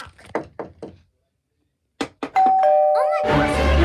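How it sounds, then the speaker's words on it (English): Sharp knocks on a door in a cartoon, a quick run of three or four raps followed after a pause by two more, then a ringing chime and a loud burst of noise. "Let's see what happens when I knock."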